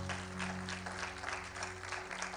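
Church congregation applauding at a Brazilian evangelical service, steady dense clapping filling the space at moderate level, with a sustained musical tone beneath it.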